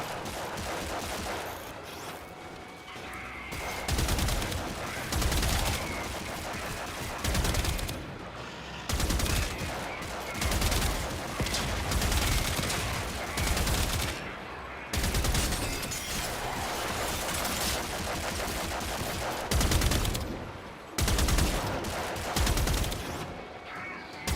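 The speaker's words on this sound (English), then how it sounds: "Someone was shooting at me." Sustained gunfire in the Warframe video game, with bursts of rapid automatic shots broken by short pauses; loud and dense across the whole stretch, with no talk.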